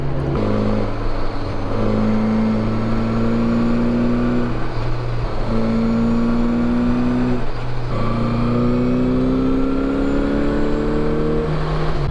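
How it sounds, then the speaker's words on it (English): A 1981 Honda GL1100 Gold Wing motorcycle engine running steadily up close, its droning tone rising in pitch through repeated revs with brief dips between, loud and continuous. "enjoy the sounds of a classic motorcycle from 1981"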